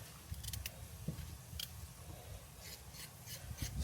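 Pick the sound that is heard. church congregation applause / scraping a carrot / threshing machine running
scraping a carrot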